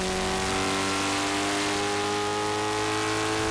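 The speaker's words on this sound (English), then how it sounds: "we accelerate through them in second gear" A vintage race car accelerates in second gear through a left-right pair of S-turns at Summit Point, West Virginia, its engine a loud, steady drone with a rising pitch, heard from close by throughout.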